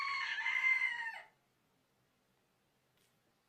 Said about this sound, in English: Don't mind the rooster.